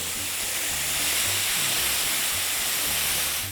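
Chili paste and crushed peppercorns sauteing in a hot pan give a steady, close sizzle and hiss that holds loud and even for the whole stretch, with no voices over it.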